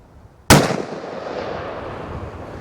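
A single very loud gunshot from a .460 Magnum revolver, a sharp crack with a long echoing tail fading outdoors, alone without talking.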